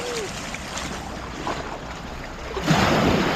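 Sea waves wash onto the shore at Malé in the Maldives during rain and flooding, a continuous broadband rush with gusty wind noise that surges louder near the end.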